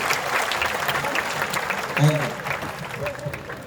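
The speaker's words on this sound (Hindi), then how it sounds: "ताली तो ढंग से बजा के" Audience applause at a Hindi comedy poetry gathering, steady clapping from the crowd throughout while someone talks over it near the middle.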